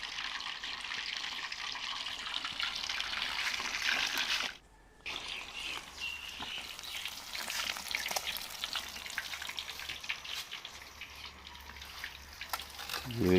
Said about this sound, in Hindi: अब इसको दोबारा फ्राई करेंगे, सिर्फ जस्ट 3 से 4 मिनट।